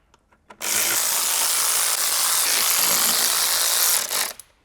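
A power ratchet runs in one steady, loud, continuous whir for about three and a half seconds, driving bolts into the engine of a BMW E70 X5 V8 SUV, with a few faint clicks before it starts and a brief tail as it stops.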